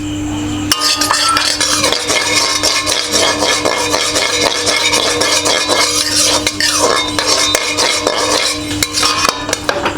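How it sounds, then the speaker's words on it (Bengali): White sesame seeds roast in a hot pan, stirred constantly so that a busy, loud rattle and scrape of seeds and spatula runs throughout, with a steady low hum underneath and no talking. "কড়াই গরম হচ্ছে, তিলগুলো দিয়ে দিলাম।"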